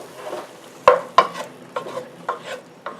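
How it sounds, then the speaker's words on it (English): Spices and tomato stirred in a hot pan for aloo gobi, a series of sharp spoon scrapes and knocks against the pan over a faint sizzle, close and fairly loud, with no speech. "just give this a quick stir."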